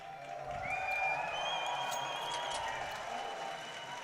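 An esports arena crowd at a PGL Counter-Strike LAN grand final cheers for Fnatic, a sustained roar of voices with scattered whistles and shouts, wide and diffuse from a distance.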